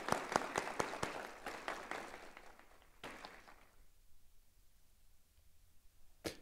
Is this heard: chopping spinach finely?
no